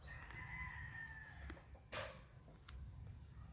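A young stag rooster crows faintly somewhere in a backyard flock, one drawn-out call under a steady background hiss, followed by a few soft clucks.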